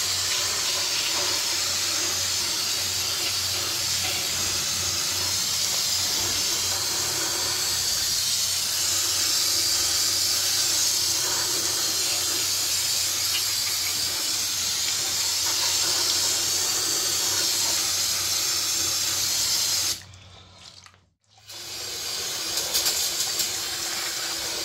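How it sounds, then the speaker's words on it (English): A can of brake cleaner sprays inside an open vehicle differential, a loud, continuous hiss lasting about twenty seconds before cutting off abruptly, then a short burst resumes. "So let me grab a can of brake cleaner."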